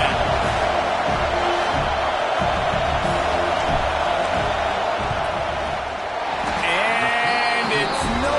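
Stadium crowd at a football game roars steadily and loudly throughout a field goal attempt, a dense wash of cheering and noise under a commentator's voice.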